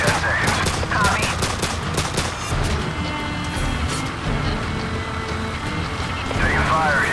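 Bursts of automatic gunfire and scattered shots in a Call of Duty 4: Modern Warfare beach assault, loud and continuous under radio-style voices and battle noise.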